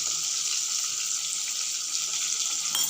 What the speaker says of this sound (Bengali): দেবো এবারে কেটে রাখা বেগুনের টুকরো। খুব সহজে 2-4 মিনিট ভেজে নিয়ে